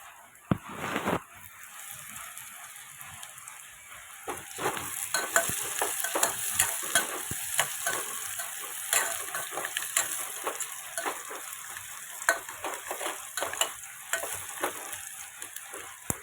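Onions frying in a pan until brown for semiya upma, a steady sizzle broken by frequent scraping stirs of the spatula, close and moderately loud throughout, with no talk.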